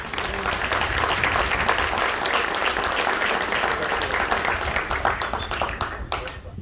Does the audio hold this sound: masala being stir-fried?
no